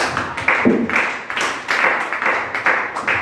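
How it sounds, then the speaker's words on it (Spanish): A congregation at a church service applauds in praise of Christ, the hand claps falling in rhythmic, evenly spaced bursts that fill the room for several seconds. "¿por qué no le dan un aplauso a Cristo?"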